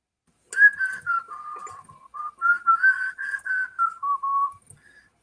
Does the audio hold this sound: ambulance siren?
no